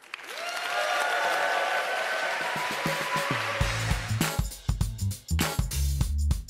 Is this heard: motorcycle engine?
no